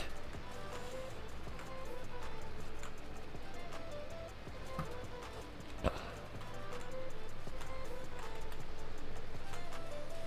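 Horse hooves clip-clop faintly and steadily in the video game Farming Simulator 22, a quiet rhythmic clatter under a continuous background rumble with a single sharp knock partway through.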